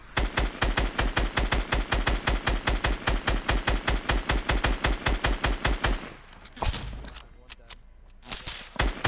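Rapid automatic gunfire from the 2017 Fortnite video game rattles in a fast, even stream of loud shots for about six seconds. Scattered bursts and quieter game noise follow.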